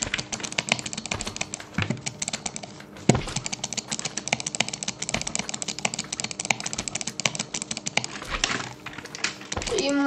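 Fast, dense clicking from a computer mouse worked with the butterfly-click technique for PvP gaming. It is a steady, near rattle of sharp clicks across the whole stretch, with a few heavier knocks.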